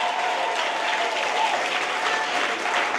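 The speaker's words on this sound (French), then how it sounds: "Acclame Jésus bien fort là." A church congregation applauds and cheers for Jesus, a dense, loud, sustained wash of clapping from a large crowd that fills the whole moment without pause.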